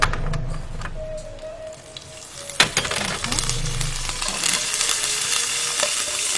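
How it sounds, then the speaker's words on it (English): Seasoning of red chilies and curry leaves sizzles and pops in hot oil while being stirred for lemon poha, a loud, close crackle with scraping stirs and no talking. "The popping sound, if you can hear, the seasoning is almost ready."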